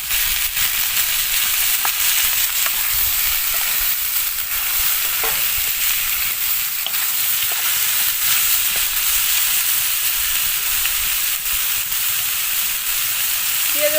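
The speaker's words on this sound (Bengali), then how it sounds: "আর দিয়ে দেব 4টে কাঁচা লঙ্কা কুচি" Chopped green chillies sizzle and crackle steadily in a hot pan, loud and close, with occasional soft stirring scrapes and no talking.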